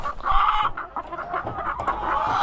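A hen clucks close by in short, uneven bursts while her egg is taken from her, the sound soft and continuous over the brief moment.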